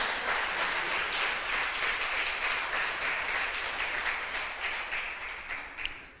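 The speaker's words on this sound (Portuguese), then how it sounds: "Você pode aplaudir o Senhor?" A church congregation claps in sustained, even applause that fills the room, moderately loud and without speech, tapering slightly at the end.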